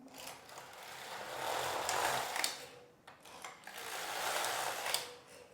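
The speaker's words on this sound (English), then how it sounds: "Take the locks across twice, so that's 1 round of circular knitting." Locks of a Passap Duomatic 80 knitting machine sliding across the needle bed twice in circular knitting, two long rising and falling mechanical whooshing rattles with clicks at each end, close and steady, without speech.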